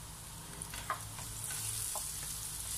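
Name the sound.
sautéing onion and garlic in a pan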